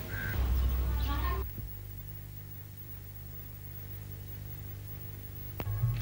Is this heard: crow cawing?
yes